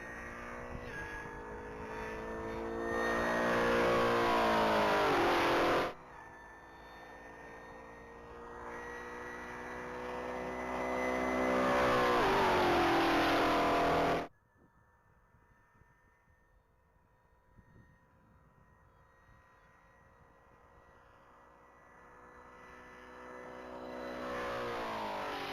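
A race car at a Texas Mile top-speed event roars loudly with rising engine pitch as it accelerates down the mile, then cuts off abruptly and fades into quieter background engine noise before building again.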